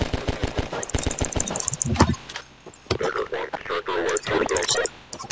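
Rapid bursts of gunfire from a first-person shooter in Garry's Mod, sharp repeated shots in quick volleys, with a voice talking over much of the action.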